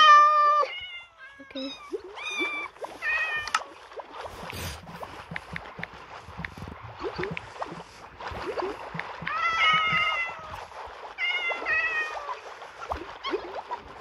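Repeated video game cat meows, some drawn out and whiny, spaced across the clip over light background noise, with a brief spoken word near the end.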